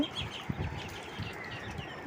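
Ducks chatter and call in short, soft bursts, close by, with light pecking and shuffling sounds between the calls.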